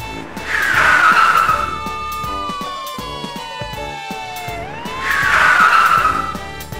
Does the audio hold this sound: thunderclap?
no